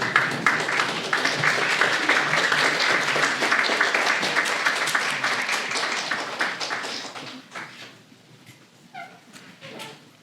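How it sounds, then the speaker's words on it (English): Loud, dense applause from families and guests at a university graduation ceremony, with some high-pitched cheering mixed in. It dies down after several seconds, leaving faint scattered sounds. "give a round of applause to your loved ones here with you today."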